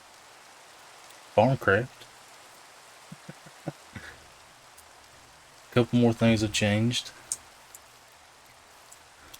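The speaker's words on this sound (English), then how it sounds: "This rain in 118 is absolutely horrendous." Steady soft rain patters continuously in a Minecraft game world, a faint hiss running beneath two bursts of someone talking.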